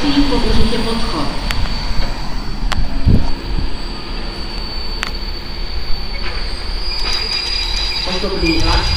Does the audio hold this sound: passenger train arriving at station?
yes